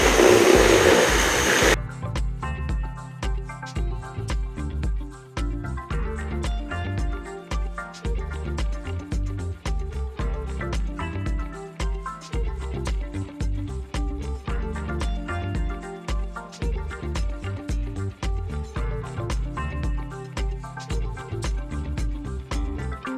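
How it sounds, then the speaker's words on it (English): A vacuum cleaner running while cleaning the floors of a camper van. A steady, continuous motor drone with shifting tonal whine lasts throughout, with brief changes in pitch as the nozzle moves. "All right, vacuuming is done."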